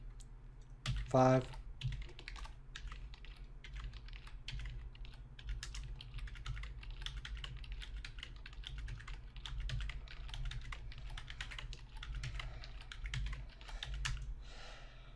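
Computer keyboard keys clatter in quick, irregular bursts of presses while text is copied and pasted, the clicks continuing steadily under a voice speaking now and then.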